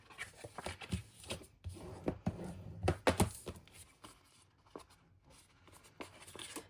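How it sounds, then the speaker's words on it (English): Bone folder rubbing and burnishing folded paper along score lines for a mini album page, a series of close, dry scraping strokes and soft taps in irregular bursts with brief pauses. "fold and burnish on the score lines"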